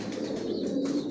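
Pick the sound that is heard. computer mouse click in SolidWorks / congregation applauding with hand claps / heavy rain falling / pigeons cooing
pigeons cooing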